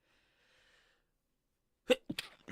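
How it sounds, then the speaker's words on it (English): A single sharp sneeze bursts out close to the microphone, followed by a couple of quick breathy after-sounds, with near silence and only a faint hum before it. "I'm really sorry for sneezing so much."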